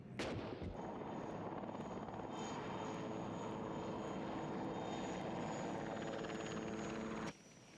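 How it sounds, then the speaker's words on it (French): American combat helicopters supporting Saudi armor during the Gulf War: a loud, steady rotor and turbine drone with rhythmic blade chop holds for about seven seconds, then drops away sharply near the end. "Les blindés saoudiens encerclent les positions irakiennes appuyées par les hélicoptères de combat américains."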